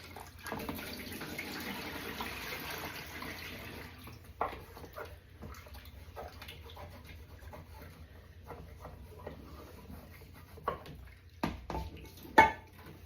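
Running water at a sink while a pot with stuck-on rice is washed, a steady tap flow for the first few seconds, then quieter splashing and scattered clinks and scrapes.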